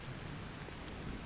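Steady rain patters down on a forested stretch of the Foothills Trail near Burrells Ford Road in Oconee State Park, a soft, even hiss of drops close by with no voices.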